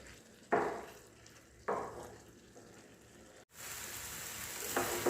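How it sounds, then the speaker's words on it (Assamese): Grated carrot halwa fries in a pan over medium gas while being stirred, steady soft sizzling broken by a couple of scraping stir strokes, then a louder, brighter sizzle toward the end. "এইখিনি এনেদৰে লৰাই লৰাই ভাজি থাকিম"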